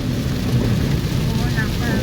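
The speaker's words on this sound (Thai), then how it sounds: "ฝนมาแล้วครับฝนมาแล้ว" Heavy rain begins to fall with rumbling thunder along road 226 in Sisaket, Thailand, a loud steady roar of downpour throughout, with no distinct voices over it.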